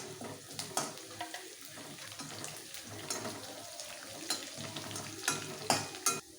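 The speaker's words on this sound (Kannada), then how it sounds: "ಈಗ ಗೋಡಂಬಿ ಹಾಕ್ಕೊತಾ ಇದ್ದೀವಿ." Cashews, curry leaves and green chillies sizzling and crackling in hot oil in a pan, a steady close fry broken by sharp pops and the scrape of stirring.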